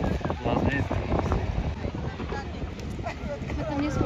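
Wind gusting across the grounds of the Košice air show, buffeting the microphone in a steady, heavy rumble, with people talking nearby throughout.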